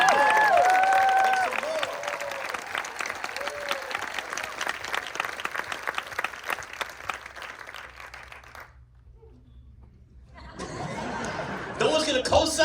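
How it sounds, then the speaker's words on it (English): Audience at a film screening Q&A for a concert film breaks into loud applause mixed with laughter and cheers, tapering off into quiet before clapping briefly resumes near the end. "Give us some applause, please."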